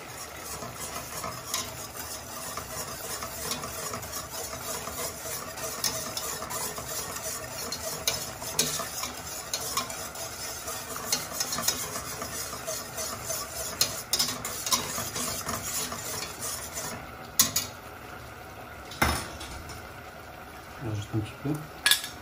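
A spoon stirs roux into a simmering sauce in a pan for blanquette de veau, with scraping and light clinks of metal against the pan over a soft sizzle, and a few louder knocks near the end.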